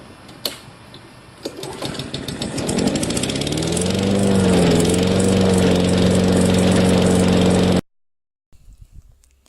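A motorcycle engine chatters loudly and close by, revving up from a rough idle into a steady drone that runs for several seconds and then cuts off abruptly.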